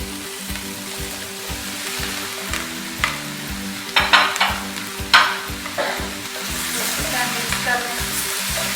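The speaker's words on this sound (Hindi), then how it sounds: "अभी इसमें शामिल कर दें चिकन जो हमने फ्राई किया हुआ है।" Fried chicken pieces tipped into a hot pan and stirred for Chicken Manchurian: a steady, close sizzle with a few sharp scraping clatters from the spatula midway, and no voices.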